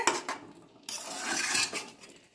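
A metal lid set down on a cooking pot of chicken curry with potatoes: a quick clink followed by a brief rattling scrape as it settles, close and fairly quiet.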